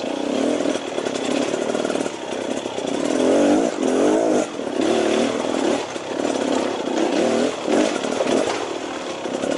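A 2018 Beta Xtrainer 300 two-stroke dirt bike ridden along a trail, its loud engine close and continuous, rising and falling in rhythmic waves of revving throughout with no voices.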